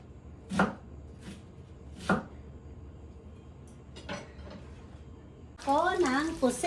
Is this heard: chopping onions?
yes